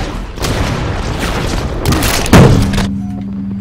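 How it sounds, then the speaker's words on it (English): Cannon fire during a pirate-invasion game, a sustained rumbling barrage of booms and thuds with a heavy impact near the end followed by a fading low ring. "We are taking cannon fire!"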